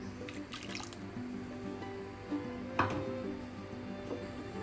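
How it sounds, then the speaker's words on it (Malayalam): Water used to rinse a mixer jar is poured into a sweet pineapple and grape pachadi, heard as soft drips and a wet squishy trickle at low volume with light kitchen clinks. "ജാറ് കഴുകിയ വെള്ളം കൂടെ ചേർക്കാം"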